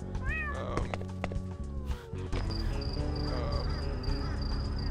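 Cats meowing in the video game Thirty Flights of Loving, several rising and falling meows up close at the start, followed by a steady high insect-like chirring and dense layered background sound.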